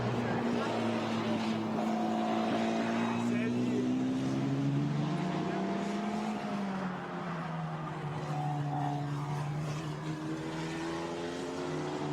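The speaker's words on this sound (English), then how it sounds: "The Formula Renault FR19 4-cylinder 1800cc turbo engine car, 270 brake horsepower." A Formula Renault FR19 race car with a 1.8-litre four-cylinder turbo engine runs at Spa-Francorchamps in qualifying, its engine note rising and falling through gear changes as it passes. The car stays loud and steady under a commentator's voice.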